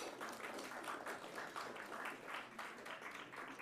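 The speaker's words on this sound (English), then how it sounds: "can you just, all of you, welcome him with a round of applause?" Audience applause at a summit, steady scattered clapping from a crowd heard at moderate distance and fairly faint, continuing without pause.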